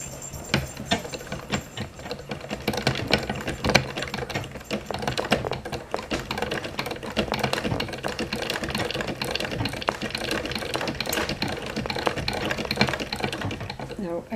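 Sewing machine stitching a cover for a dog training dummy at a kitchen table, a dense rapid mechanical chatter running throughout at close range with brief stutters and a voice over it.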